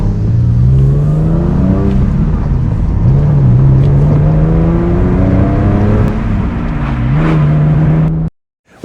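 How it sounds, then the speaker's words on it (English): A Porsche 911 of the 996 generation with a sports exhaust revs loudly up close, its engine drone rising and falling in pitch several times before cutting off abruptly. "if you didn't know, this has the sports exhaust"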